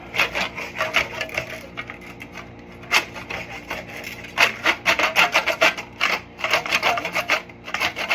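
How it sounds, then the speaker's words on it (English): A hand saw cuts through plastic condensate drain pipe for a hybrid hot water heater, making close, loud rasping strokes in bursts with short pauses between them. "Just make your measurement, run your saw through it."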